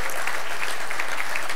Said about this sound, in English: Another round of applause for Chris and the team here at Clever Talks.